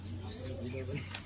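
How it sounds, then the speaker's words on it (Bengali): Male high-flyer pigeons coo at a pigeon seller's stall, giving low, throaty, repeated coos close by over a busy background with faint voices. "আজকে অনেকগুলো ছেলে কবুতর আছে নাকি ভাই?"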